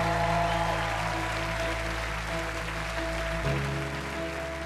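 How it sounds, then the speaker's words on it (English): A studio audience at a talent show audition claps in a dense, steady wash of applause, with a tonal hum running beneath it. "A big round of applause, please, for Simon."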